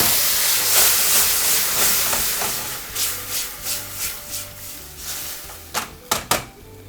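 Wet marinated fresh tomatoes hit a hot pasta sauce for an eggplant tomato pasta, giving a steady close sizzling hiss that fades slightly, followed by a few sharp utensil clatters near the end.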